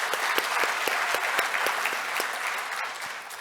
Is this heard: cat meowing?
no